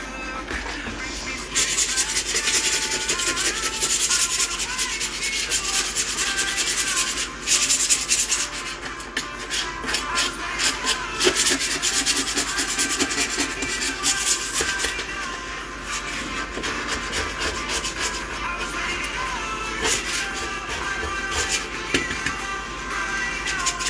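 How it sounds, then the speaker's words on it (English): Steady, continuous scraping and rubbing against the surface of a fridge, a loud close gritty rasp that carries on for over twenty seconds with small shifts in intensity. "So we're gonna scrape."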